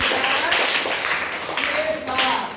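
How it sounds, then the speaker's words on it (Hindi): Children clap together in a classroom in several short bursts of brisk, close applause, and a teacher's voice is heard around them. "ताली बताइए"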